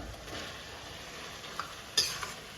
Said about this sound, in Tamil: இப்போ நம்ம பன்னீரை போட்டுடலாம்